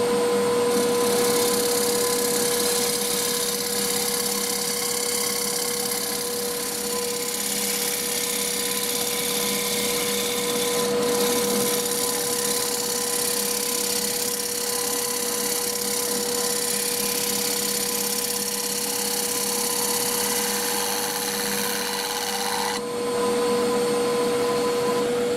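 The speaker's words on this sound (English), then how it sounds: "Here we go again with the round nose scraper" A round nose scraper taking finishing cuts on a wooden bowl spinning on a lathe, a steady whirring drone with a constant high motor tone and faint scraping texture, continuous and close, ending with a brief change near the end.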